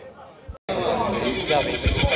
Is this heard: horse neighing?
yes